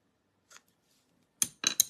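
Paper trimmed with scissors at a card-stamping craft table: a faint single snip, then three sharp, close cutting crunches in quick succession near the end, with no talk.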